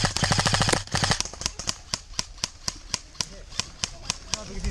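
Airsoft gun shots snap out outdoors, first as a rapid full-auto burst, then as a long run of single sharp cracks at a steady, fairly quick rhythm.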